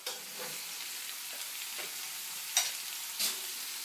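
Fish fries crispy in a pan with hot oil, a steady soft sizzle with a few sharper crackles and pops standing out near the end.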